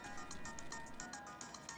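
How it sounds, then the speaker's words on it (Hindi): A mobile phone ringtone plays a repeating, bright electronic melody at a steady pace, faint and slightly distant, with no one speaking over it. "तेरा फोन बज रहा है"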